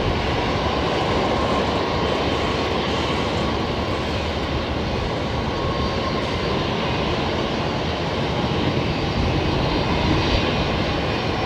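A Skytrans Airbus A319 takes off from Brisbane Airport, its jet engines holding a loud, steady broadband roar throughout with no voices over it.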